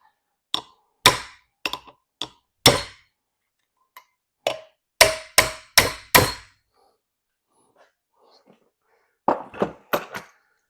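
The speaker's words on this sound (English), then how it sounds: "I'm going to hit it like it owes me money." Hammer blows on a Ford 351C 4V cylinder head with a cloth under the valves to loosen them, sharp metallic strikes in irregular clusters, some rapid runs, loud and close with short ringing decays and silent gaps.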